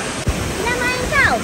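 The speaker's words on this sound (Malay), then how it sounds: "inilah suasana di Splash Zone" Water rushes continuously in a resort water park splash zone, a steady roaring flow with a brief thump, while voices talk over it.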